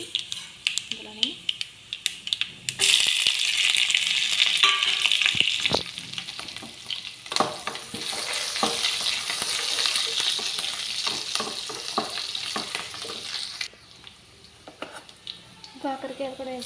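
Onions, green chilies, mustard seeds and cumin fry in hot oil, a loud continuous sizzle with scraping stirs and clinks of a pan, while someone talks over the cooking.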